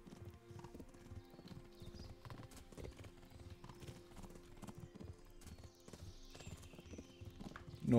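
Horse hooves clip-clop in a steady walking rhythm throughout a medieval video game scene in Kingdom Come Deliverance, fairly quiet, ending with a louder burst.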